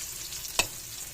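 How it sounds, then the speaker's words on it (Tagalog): Longganisa sausage and vegetables fry with a steady sizzle in a pan, broken by a single sharp scrape of a utensil as they are stirred. "Mix na natin guys yung gulay"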